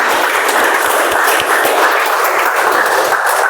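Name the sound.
audience applause welcoming a speaker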